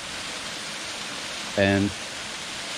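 A waterfall pours steadily at a cave entrance on a spring day, a constant broadband rush filling the whole clip, with a brief spoken word near the end.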